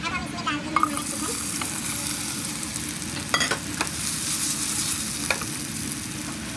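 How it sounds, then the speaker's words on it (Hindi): Chicken coated in tikka masala fries in sunflower oil over a high flame, giving a loud, steady sizzle with occasional clattering stirs and scrapes of a utensil in the pan. "अब इसे हम फ्राई कर लेंगे"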